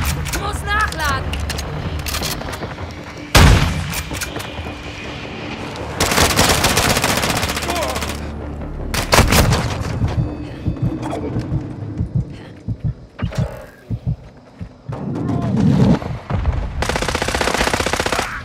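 Gunfire in Call of Duty Modern Warfare II: close, loud bursts of automatic weapons and single sharp shots in irregular clusters, with game voices speaking in between.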